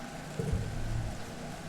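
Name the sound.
torrential rain in the video game I Was a Teenage Exocolonist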